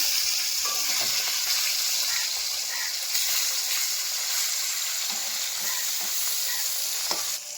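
Pieces of katla fish fry in hot oil in a home kitchen, giving a steady, dense sizzle with occasional sharper crackles and spatters, close and continuous throughout with no voices.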